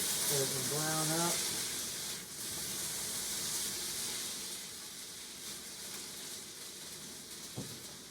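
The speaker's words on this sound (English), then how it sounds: "come over here and give these potatoes a good stir. So they can brown up" Home fries made from potatoes, stirred in a pan, sizzling and hissing softly and steadily at low volume, with a brief voice-like tone at the start and a faint clink near the end.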